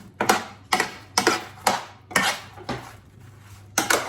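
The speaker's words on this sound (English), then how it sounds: "So I'm just going to get that a little stir." Croutons with olive oil, garlic and dried marjoram are stirred in a pan, with a utensil clinking and scraping against the metal in an even rhythm about every half second, close and with no speech.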